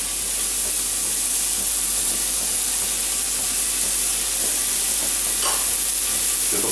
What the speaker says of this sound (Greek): Τώρα που έχει κάψει λίγο το ελαιόλαδο, θα προσθέσουμε φρέσκο κρεμμυδάκι, το ξηρό,